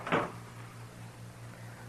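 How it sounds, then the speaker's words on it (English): A door shut in an old-time Western radio drama, heard as a single close, fairly loud thump with a brief rattle right at the start, followed by a steady low hum and quiet room tone. "Shut the door, Chester."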